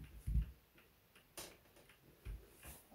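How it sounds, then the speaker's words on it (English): A Seth Thomas Beehive mantel clock ticks in a quiet room, a slow, even tick-tock of about five soft, close beats with faint low knocks underneath. "that's good that it at least ticks at first."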